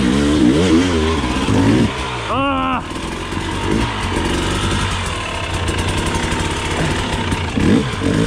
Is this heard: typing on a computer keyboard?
no